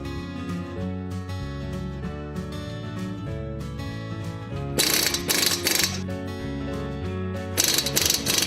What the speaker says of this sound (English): Take the bolts for the mounting bracket and apply a coating of red Loctite. Insert the bolts and tighten.